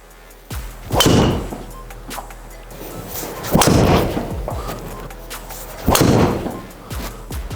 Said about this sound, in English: Let's hit some golf shots, let's get into it.